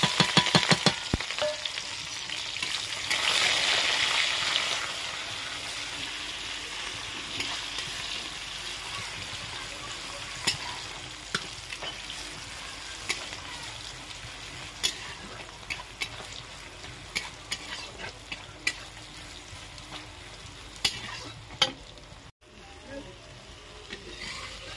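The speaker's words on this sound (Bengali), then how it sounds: "আদা রসুনের পেস্ট দিয়ে ভালো করে লাল লাল করে এগুলোকে ভেজে নিচ্ছি" Ginger garlic paste and garam masala, along with onion, fry in hot oil in a pan, giving a continuous mid-level sizzle with scattered stirring clicks and taps. Quiet background noise runs underneath.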